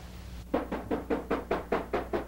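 Steady knocking on a wooden cabin door, eight evenly spaced raps at a brisk rhythm, close and clear over a low background hum.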